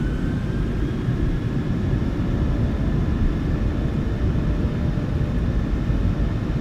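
Boeing 737-900ER jet engines in a flight simulator spool up to takeoff power, producing a loud, steady, broadband roar with a faint high whine. The sound holds constant throughout, with no voices.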